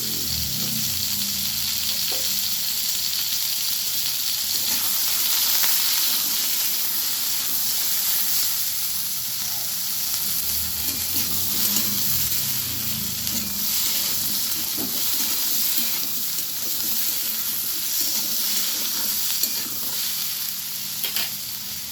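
Slit green chillies and panch phoron crackle in hot oil for a vegetarian banana stem dish, a steady close hiss with small pops that runs unbroken and alone, with no talking.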